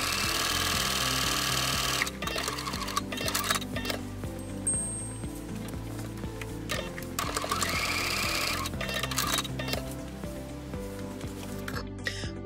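A sewing machine stitches steadily while gathering a puff sleeve for a shirt, a continuous close mechanical whirring and ticking with brief shifts in pace, no talking.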